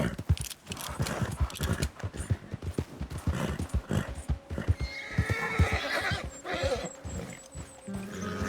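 Horse in the video game Red Dead Redemption 2 giving a loud whinny and snorts over a run of close, uneven hoofbeats, with someone speaking over part of it.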